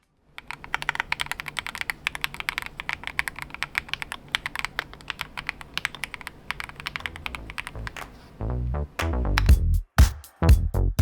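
Rapid, steady key presses on a Thunderobot Zero75 mechanical gaming keyboard, crisp clacks in a continuous rhythm, ending in a few louder, heavier thocks.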